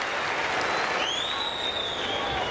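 A tennis crowd at a 2002 US Open quarterfinal applauds and cheers in a steady wash of clapping throughout, with a commentator's voice faintly audible over it.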